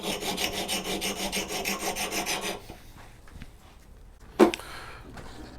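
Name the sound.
sharpening an axe with a sharpening jig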